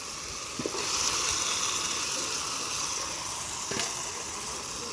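Marinated meat going into fried, oil-separated spice paste in a pan, giving a steady, close sizzle and hiss that swells after the first second, with a few faint utensil clinks.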